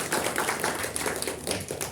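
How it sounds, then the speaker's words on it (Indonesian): Dense, steady clapping from a church audience at a Christmas gathering, filling the whole moment at moderate level with quick overlapping hand claps and no talk on top. "Beri tepuk tangan buat Tuhan."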